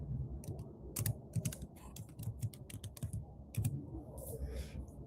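Quick bursts of fingers typing a name on a computer keyboard, irregular clusters of close, soft key clacks over a low background murmur, with no speech.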